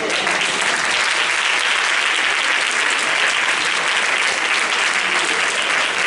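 Church congregation gives youth workers thunderous, sustained applause, a dense, loud, unbroken wall of clapping from a large crowd.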